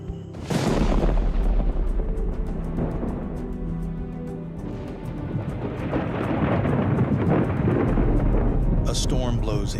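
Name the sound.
thunderstorm in Congo forest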